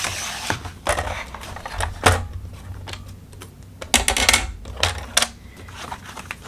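A handheld trimmer cuts through Dollar Tree craft material with a string of sharp, crisp clacks and snaps at uneven intervals, close by and with no voices.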